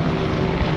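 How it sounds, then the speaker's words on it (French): Steady, loud engine drone with a low rhythmic chop, like a helicopter passing close overhead, filling the whole moment with no voices. "Ouais, hélicoptère, hélicoptère."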